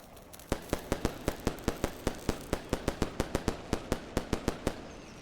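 A string of about twenty sharp, evenly spaced firecracker pops from the video game Animal Well, each a crisp crack in a quick steady rhythm, alone and fairly close.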